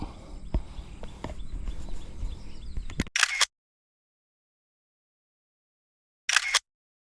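Two crisp bursts of a camera shutter firing, spaced a few seconds apart in near silence after outdoor noise at a spot for fishing snakehead, snapping photos of a freshly caught fish.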